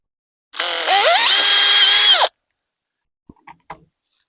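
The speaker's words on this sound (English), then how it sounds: "I'll take this pilot bit. Go ahead and hit both of my holes." A cordless power drill with a pilot bit bores a hole for a gate latch on a wooden picket gate: one loud whine that ramps up, holds for under two seconds and stops, then a few small clicks.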